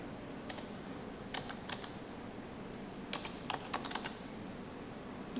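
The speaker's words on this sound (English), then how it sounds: "For the compilation you have to type csc space file name destructor.cs and enter." Compile command typed on a computer keyboard, two quiet clusters of key clicks separated by a pause, over faint room hum.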